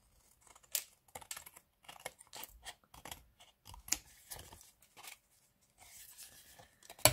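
Scissors snip paper strips for a handmade card in a series of short, crisp, irregular cuts, close and fairly quiet, with small pauses between clusters of snips.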